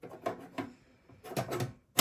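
A metal side panel goes back onto an Acer Aspire TC-1780 desktop computer case: a series of soft clunks, scrapes and sliding rattles at close range, ending with a sharper knock as it seats.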